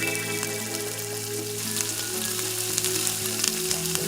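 Chopped potatoes frying in a pan for kabli chana ghugni, a loud continuous sizzle with crackling pops and occasional stirring, close up, over a faint musical drone.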